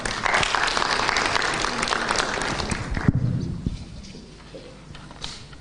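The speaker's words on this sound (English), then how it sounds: "A round of applause, ladies and gentlemen." A crowd at a Pan African Youth Convention at the Kenya School of Government applauds with steady clapping for a few seconds, then it quickly thins out to a few scattered claps and quiet room noise.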